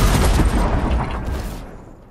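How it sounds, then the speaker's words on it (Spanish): Gunfire from Fortnite rattles in a quick burst of loud, booming shots that fade and thin out over a couple of seconds, with no voices over it. "Me están disparando."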